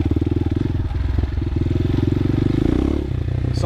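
CSC TT250 dual sport trail motorcycle engine idling close by, a steady low chugging pulse with loose mechanical clatter throughout, holding level before a slight shift near the end.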